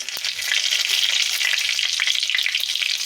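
Cumin seeds and bay leaf dropped into hot oil in a very hot kadai crackle in a loud, dense, continuous sizzle, close and with no talking.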